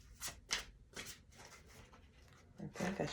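Tarot cards are shuffled by hand in a series of quick, soft riffling bursts, close and fairly faint, growing fuller at the end.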